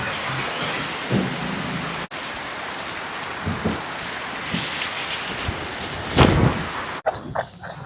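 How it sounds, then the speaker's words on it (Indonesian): Heavy, steady rain pours down outdoors while someone walks through it, a dense hiss filling the whole stretch, with a dog barking faintly at moments and a brief sharper burst near the end. "Hujannya benar-benar semakin deras."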